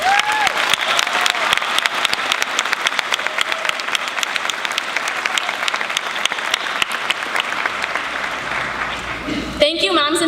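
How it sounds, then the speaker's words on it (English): A large graduation ceremony crowd applauds its parents and teachers, a dense sustained wash of clapping with voices mixed in, ending in a brief burst of cheering. "Everyone, let's give a round of applause to our parents and teachers."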